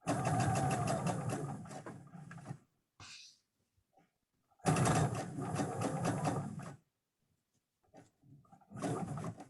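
Sewing machine stitching the compartments of a fabric three-way divided caddy, running in two long loud bursts with a short pause between, then starting up again near the end.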